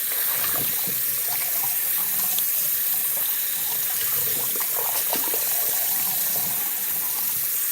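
Hot water runs steadily from a tap into a sink while cleaning a fan, a continuous close splashing gush with small fluctuations and no talk.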